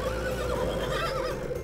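A horse neighs loudly in a wavering whinny lasting over a second, close by, above a low rumbling background.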